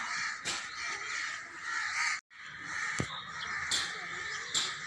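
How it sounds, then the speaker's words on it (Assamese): A crow caws repeatedly outdoors, its harsh calls clear and fairly close above a steady background hiss, with a brief drop to silence midway and no talking. "কাউৰীৰ মাত শুনিছেনে আপোনালোকে?"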